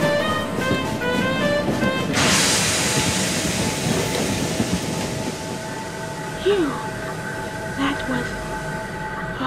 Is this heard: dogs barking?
no